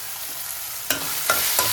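Dal with tomato, turmeric and salt stirred in a pan, a steady sizzling hiss broken by three spoon scrapes against the pan, close and alone.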